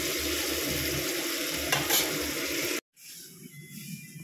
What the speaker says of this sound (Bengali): পনির নিলাম, তো পনিরটাকে ভালো করে ফ্রাই করে নেবো।